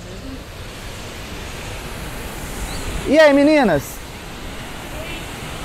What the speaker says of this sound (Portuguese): Vamos ali mais pra gente mostrar essa cachoeira de perto.